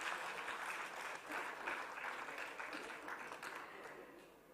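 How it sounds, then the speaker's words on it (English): A round of applause rises from the audience at a finance conclave as an MOU is signed, steady clapping from a hall crowd that slowly fades toward the end. "Can we have a round of applause for this moment,"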